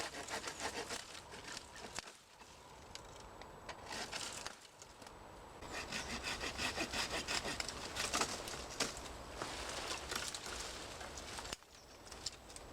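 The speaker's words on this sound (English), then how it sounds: "getting in with the pruning saw to cut the thicker branches." A pruning saw cuts through thick hedge branches on an allotment in bursts of rhythmic rasping strokes, close and clear, broken by short pauses, with faint birdsong in the background.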